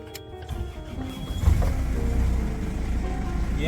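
A car engine cranks with a whirring starter and catches into a steady low running rumble up close after a repair, holding a constant idle.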